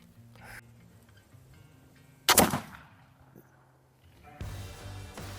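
A flintlock gun fires with flint and steel, one sharp, loud crack followed by a brief echoing tail, set among quiet breathing and background noise.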